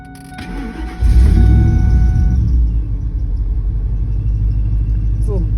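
A 2002 Ford F-150 Lightning SVT engine cranks and catches about a second in, then settles into a loud, steady rumbling idle up close, with a faint belt whine riding in the running sound.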